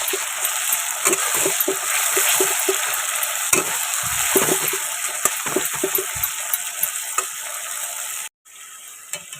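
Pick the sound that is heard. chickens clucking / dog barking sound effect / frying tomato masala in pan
frying tomato masala in pan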